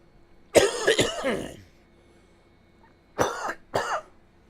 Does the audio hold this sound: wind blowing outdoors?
no